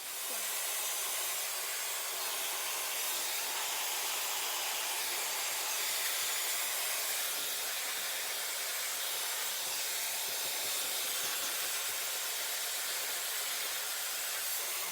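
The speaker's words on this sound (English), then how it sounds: "So I'm still blow drying my hair" A hair dryer blow-drying hair fitted with hand-tied extensions produces a constant, loud airy rush of hiss that holds at one level for the whole fifteen seconds, with no talking.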